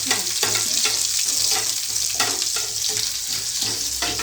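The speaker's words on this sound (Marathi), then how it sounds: "त्यानंतर जिरे लसूण टाकायचा तेल जिरे लसूण नंतर फ्राय करून घेतो" Cumin and garlic fry in hot oil with a loud, steady, close sizzle, broken by a few scraping stirs, and no voices.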